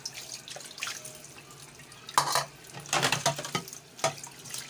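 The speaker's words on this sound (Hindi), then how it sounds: "यहाँ पे बर्तन हमारे थोड़े से हैं तो हम ये धो लेते हैं।" A kitchen tap runs in bursts while dishes are washed, water splashing irregularly with louder gushes in the middle, plus faint clinks of dishes and drips between.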